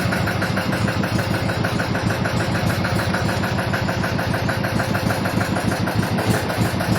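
A boat engine drones steadily up close with a regular chugging pulse, holding a constant idle-like rhythm throughout, running throttled back against a strong current.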